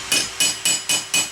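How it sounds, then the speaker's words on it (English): Five evenly spaced, ringing hammer blows strike a steel gauntlet knuckle being shaped and creased, each sharp metallic clang close and loud with a brief decay, with no talk over them. "my hammer can start to add a crease"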